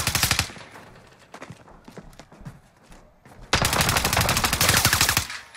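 Gunfire in the video game Warzone: a rapid automatic burst opens, followed by scattered single and short-burst shots, then a long loud sustained stream of automatic fire close by.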